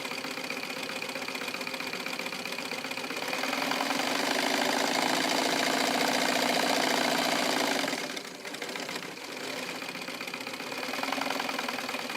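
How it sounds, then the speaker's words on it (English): An old familiar sewing machine drives a thick needle with nylon thread through a palm-fibre hat, giving a continuous rapid mechanical clatter and hum that swells louder, briefly dips, then resumes, close and steady with no talking. "It is an old familiar machine for it to withstand this type of sewing."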